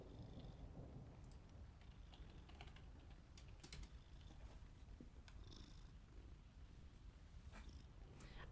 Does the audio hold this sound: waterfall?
no